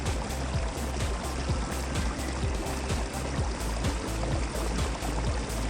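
Water swirls in a spiral flow inside the detergent mixer of a Godrej Eon U-Sonic washing machine, a steady, close rushing wash with a fine bubbling texture and no voices.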